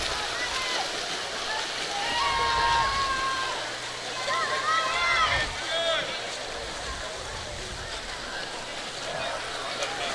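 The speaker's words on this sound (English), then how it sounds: "These guys are really turning the water." Swimmers racing at a 2019 district high school swim meet churn the pool water in a continuous splashing wash, under voices and crowd noise from an indoor natatorium.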